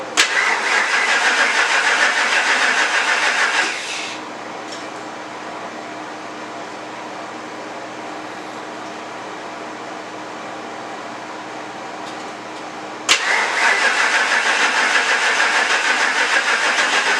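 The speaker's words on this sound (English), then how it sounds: "happy to say the truck's running again" A truck engine cranks and catches, then idles loudly for a few seconds, drops to a quieter steady hum for several seconds, and roars back up to full running noise near the end.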